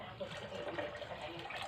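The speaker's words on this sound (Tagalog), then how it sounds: "dagdagan ko yan ng mainit na tubig" Hot water is poured into a container at home, a soft, quiet, continuous trickling splash lasting a moment.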